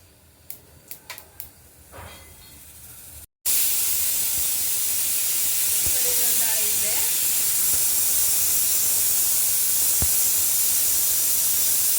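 A pressure cooker in a home kitchen, used while making instant bisi bele bath, lets out a loud, steady hiss of escaping steam that runs unbroken for about nine seconds, after a few brief clicks and clatters of cooking.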